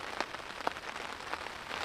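Light rain beginning at a hot riverside campsite on the French River with a tent up and a fire going, a soft hiss with a few scattered, sharper drop taps.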